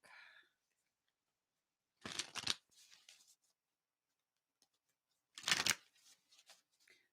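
Cards slid off the top of a deck in two quick crisp bursts of riffling paper, close and clear, separated by quiet pauses with faint handling noises.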